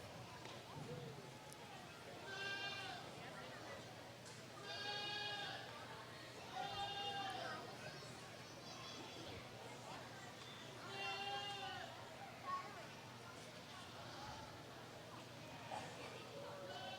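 Goats bleat in repeated, fairly loud calls at a breeding and novelty goat show, with handlers keeping the animals in position amid a busy crowd murmur and bursts of speech throughout.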